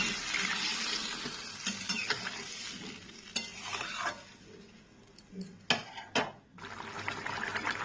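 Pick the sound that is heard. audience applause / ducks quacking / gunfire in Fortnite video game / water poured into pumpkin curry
water poured into pumpkin curry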